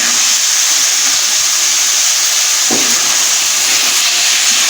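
Fried aubergine tipped into a pan of potatoes frying in oil gives a steady, loud, broad sizzle with a brief soft thump partway through, and no voices.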